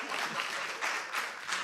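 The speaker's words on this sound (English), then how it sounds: "Beautiful, beautiful clap from the audience there." An audience at the Boston T-Parity Tetris Regional Finals claps steadily and evenly, a dense wash of applause from a crowd in the room that carries on without a break.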